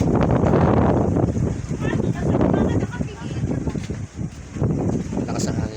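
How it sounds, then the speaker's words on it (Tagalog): Strong wind buffeting the microphone in gusty rumbling bursts at an outdoor roadside spot, loud and close, with people talking underneath. "Malakas ang hangin dito."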